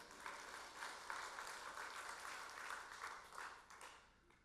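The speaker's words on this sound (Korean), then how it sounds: "믿음으로 화답하며 박수하겠습니다." A church congregation clapping together during a Korean Sunday morning worship service, a soft, even patter of many hands heard from a distance with no speech.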